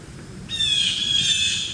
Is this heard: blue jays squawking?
yes